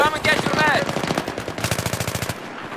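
Automatic weapon fire from the Battlefield 3 multiplayer game rattles in rapid bursts, loud and close, with a brief voice heard at the start.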